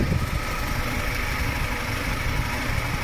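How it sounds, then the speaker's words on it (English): A 1991 Nissan Datsun D21 4x4 crew cab utility truck's engine idles nearby, a steady, even hum with mild vibration holding constant for a few seconds, no one speaking. "But let's hear this engine."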